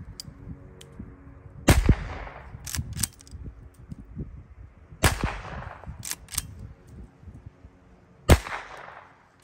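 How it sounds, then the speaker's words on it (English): A .22 birdshot smoothbore garden gun fires three sharp, loud shots into a pumpkin, evenly spaced, with quiet outdoor background and small clicks between them. "Let's put some shots in this pumpkin."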